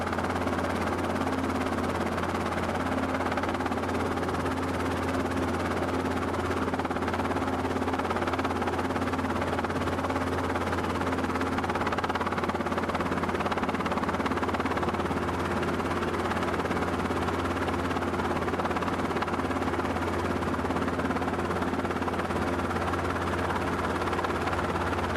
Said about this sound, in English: he let me take full control of the helicopter